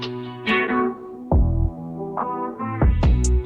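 Mashup transition in Serato DJ Pro, with a filter knob sweeping across the mix so the music thins out and swells back in several bursts, loud and close with no talking.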